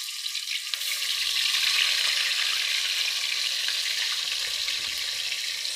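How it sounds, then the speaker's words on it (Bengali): Fish bones sizzle and crackle as they fry in hot oil in a home kitchen, a steady, close hiss that holds after a brief clatter at the start. "কাঁটাগুলো ভেজে তুলে নেব।"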